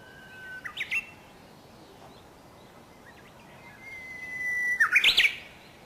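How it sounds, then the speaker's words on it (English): Japanese bush warblers sing in a valley at Isaka Dam, with two clear whistled phrases, each a long held note ending in a quick flourish, the second louder and closer, over faint background chirps. "A lot of warbler are singing here at this Isaka Dam."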